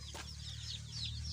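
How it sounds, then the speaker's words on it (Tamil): Young chicks from a hen's second hatch cluck softly and briefly, faint and close over a low steady background hum. "இந்த குஞ்சுங்க தான் நான் இப்போ காமிச்ச அந்த கோழியோடைய 2வது பேட்ச் குஞ்சுங்க."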